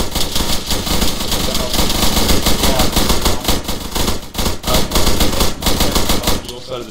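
Rapid automatic gunfire in a video game, sustained loud bursts of machine-gun fire filling the whole stretch with brief gaps, with faint voices underneath.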